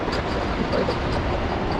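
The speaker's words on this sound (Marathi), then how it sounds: "इथून वंदे भारत ट्रेन गेली राव." A Vande Bharat express train passing nearby, a loud continuous roar and rumble of rolling wheels and carriages with faint rhythmic clicks from the track, filling the whole moment.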